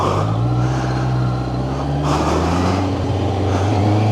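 A QJMOTOR SRK600RS motorcycle pulls away in first gear, its engine droning loudly with a strong low rumble, briefly dropping near the midpoint before the note rises again as it accelerates.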